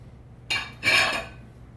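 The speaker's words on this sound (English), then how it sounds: "I just want to keep whisking it." A whisk scrapes and clinks inside a pot of cream pie filling thickened with lightly beaten eggs, cooking low. Two short, fairly quiet bursts of metallic rattling with a brief pause between them, and no talking.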